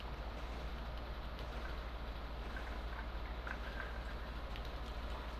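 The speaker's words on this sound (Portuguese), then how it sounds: "O trem tá parando." Steady low rumble of a train rolling along in GTA 5, a continuous mechanical drone with a faint rattle, loud and even throughout with no voices.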